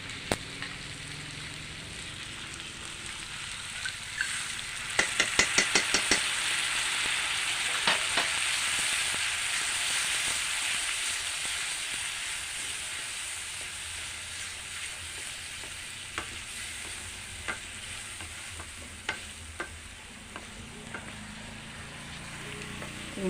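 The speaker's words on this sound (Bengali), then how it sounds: "চিংড়ি মাছটা ভালো করে একটু ভাজাও," Shrimp frying with chili paste and a splash of water in a pan, a continuous crackling sizzle with bursts of spoon scraping early on and occasional sharp pops.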